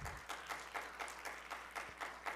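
Applause at a live law students' conference in Spanish, heard at a low level with several swelling bursts of clapping over a steady hum, no voices.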